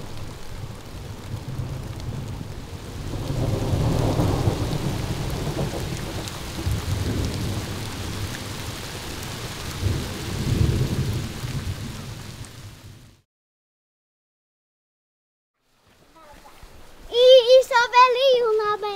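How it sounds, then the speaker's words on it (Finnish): Heavy rain pours with low rumbles of thunder rolling underneath at Lake Inari, Finland, then a brief silence before a voice speaks. "Taas sataa vettä ja ukkonen tulee."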